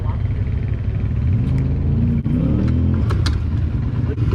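A Can-Am Maverick side-by-side idling on a trail, its engine a steady, loud, low rumble throughout with slight rises in pitch, close to the vehicle.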